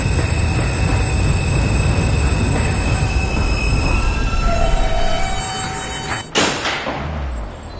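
A PTA R160B-1 B subway train bound for Herald Square runs steadily with loud continuous rumble and high wheel squeal, then a sharp bang near the end as the car rolls on.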